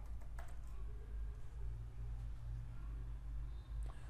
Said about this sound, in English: in the search box, you need to type in fidelity